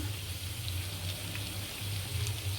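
Vegetables sizzling steadily in a pan with soy sauce and black pepper, a continuous close frying hiss with low hum underneath and no talking.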